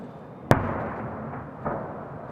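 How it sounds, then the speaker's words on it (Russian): Victory Day fireworks salute in Kaluga: one sharp close burst, then a steady crackling, rumbling wash of distant shells with a second softer thump and another burst at the end. "У вас, да, шикарный салют"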